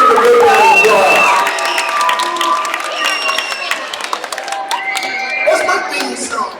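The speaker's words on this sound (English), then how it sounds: "Give him a big round of applause." A middle school crowd at a pep rally applauds and cheers loudly. Dense clapping fills the room along with shouts and whistles, and the noise stays strong before gradually thinning.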